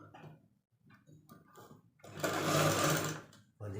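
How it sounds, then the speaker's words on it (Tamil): A sewing machine stitches the bottom edge of a blouse lining. It makes short stop-start bursts of whirring and ticking, then a louder sustained run near the end. "முதல்ல கீழ் பகுதிக்கு தையல் அடிச்சுக்கலாம்."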